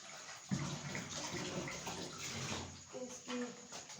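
Water runs and splashes steadily as a soap-washed kitchen pot is rinsed under a tap, fairly faint, with a few clinks and shifts in the flow near the end.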